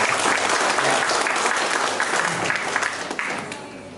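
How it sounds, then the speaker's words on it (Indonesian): An audience at the opening ceremony of the Bumiku Rumahku conference gives lively, dense applause that stays loud and steady before tapering off slightly at the end, with no talking over it. "Terima kasih, tepuk tangan semangat."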